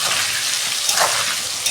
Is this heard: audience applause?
no